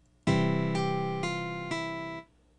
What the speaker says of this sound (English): now you have a chord that rings throughout the measure while you're playing the right quarter notes